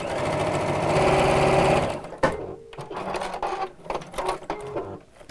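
Sewing machine running a steady fast stitch for about two seconds while quilting lines on a fabric drawstring pouch with appliqué, then stopping, followed by scattered handling clicks and light fabric movement.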